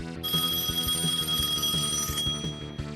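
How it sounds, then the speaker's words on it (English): A ringing phone tone from a 1994 SNES game, Shin Megami Tensei 2, plays as a steady, bright electronic melody with repeating pulses that fills the whole stretch loudly and alone. "That's a phone ringing."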